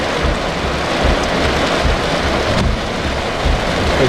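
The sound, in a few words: heavy rain on a car during a thunderstorm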